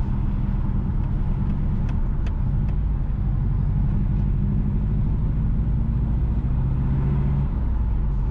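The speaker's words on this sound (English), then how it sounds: "We are now driving on the Welcome Hall Main Road." Car driving along Welcome Hall Main Road in St James, Jamaica, heard as a steady, loud, low rumble of engine and road noise from inside the vehicle, with a few faint ticks.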